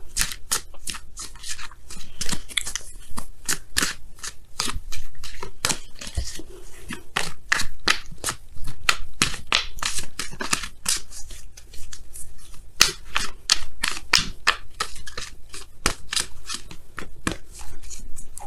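Tarot oracle cards are shuffled by hand in a steady run of quick, crisp riffling snaps and slaps, close and fairly loud, continuing without pause and with no talking.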